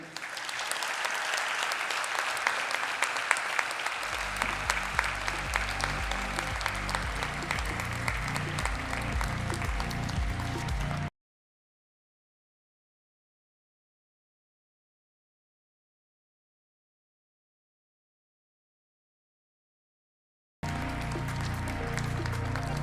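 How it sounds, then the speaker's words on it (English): Audience applause at a 2021 law graduation ceremony, a steady dense roar of clapping from a large crowd that runs for about eleven seconds, drops out, then resumes at the end. "please give a big round of applause for our gold medalist."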